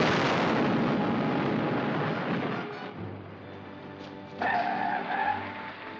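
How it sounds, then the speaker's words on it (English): A booming explosion from a 1945 Batman serial rolls in as a broad roaring burst that decays over a few seconds, leaving a low hum and a brief tonal sound near the end. "Wasn't that an explosion?"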